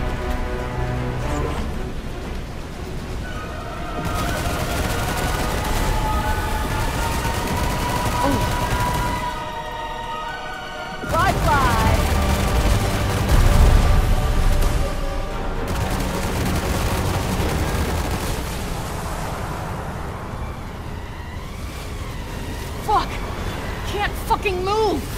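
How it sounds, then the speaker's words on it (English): Explosions and combat effects in the video game Forspoken, a dense, continuous roar of booming blasts and crackling bursts under music, with a brief lull before a heavy, louder surge. "Look out, she's building up for another explosion."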